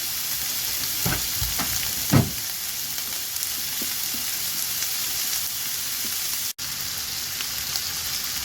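Peppers and garlic frying in a pan, a steady hiss of sizzling oil throughout, with a few louder crackles and stirring knocks early on, no voices.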